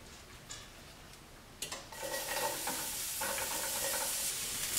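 Onions hit a hot pan for a paleo bowl, a sudden burst of sizzling after a quiet start, then a steady bright crackle with a few stirring scrapes, close up and alone.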